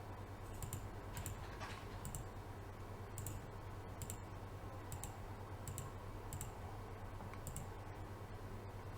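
A camera password goes in on a computer keyboard as a quiet run of key clicks, with a few sharper taps standing out over a low steady hum.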